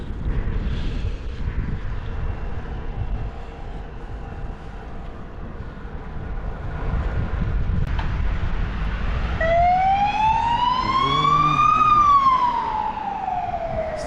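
An ambulance siren rises and falls in a long sweeping wail, growing louder over steady traffic rumble as the ambulance draws near.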